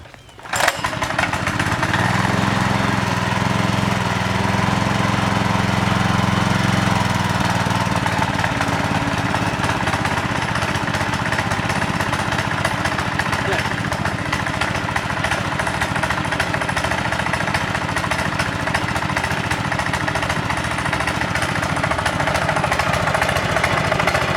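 A go-kart's small engine starts and then runs steadily after an idle screw adjustment, a loud, close, continuous buzzing drone with a rough rattly texture, alone without talking.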